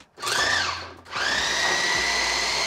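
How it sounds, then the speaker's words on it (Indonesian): An electric food chopper coarsely chops ingredients for spaghetti sauce with a high, close whirring buzz. It cuts out for a moment and then starts up again, running steadily with no voices. "kita chopper selama 7 menit"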